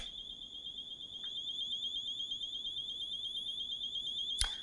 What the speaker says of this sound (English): You hear the alarm?